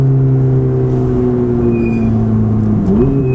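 A Ferrari F430 engine drones steadily on a track, its low harmonic hum rising in pitch near the end as the car accelerates, loud and close throughout with no voices over it.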